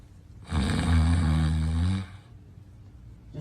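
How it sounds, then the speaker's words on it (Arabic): A man snores loudly and close up: one long, rumbling, harsh inhaled snore of about a second and a half, followed by quieter room noise. "يا اخي ذا شخير ولا جلد كرسي."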